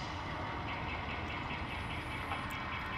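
Model railroad locomotive pulling forward while switching cars, a faint steady motor hum and rumble with a brief high squeal partway through.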